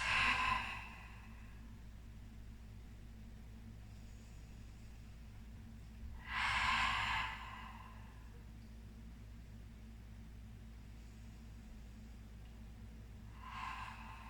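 Deep breaths during a yoga stretch: three slow, breathy exhales spaced several seconds apart, close and soft, over a quiet steady background hum.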